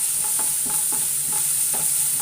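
Curry leaves sizzle in hot oil during a stir fry, with a steady bright hiss and soft stirring scrapes every half second or so. No one speaks.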